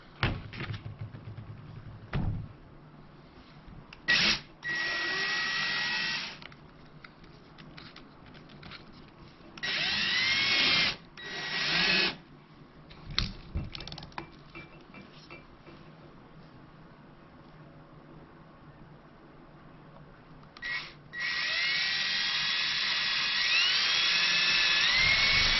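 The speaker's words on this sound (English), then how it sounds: "drill a little hole" A power drill bores a small hole into a hydro-dipped deer buck skull being prepared as a European mount. The drill runs in several short, high, whining bursts separated by quiet pauses, then finishes with a longer steady run.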